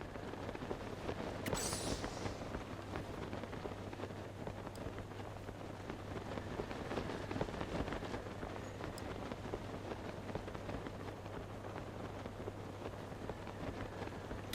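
Continuous rain in the game Zelda: Tears of the Kingdom, a soft, hissing patter over a low steady hum, fairly quiet and unchanging for the whole stretch, with no one speaking.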